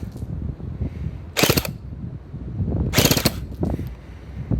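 A WELL M401 gel toy blaster fired in semi-auto, two short sharp bursts of rapid mechanical clatter separated by quieter handling noise, close and loud against a low background.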